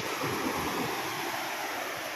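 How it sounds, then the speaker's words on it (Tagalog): Continuous rushing surf of sea waves on a beach in fair weather with normal swell, a broad steady wash with some wind noise, no talk. "Ang sarap-sarap maligo sa bagasbas ng dagat."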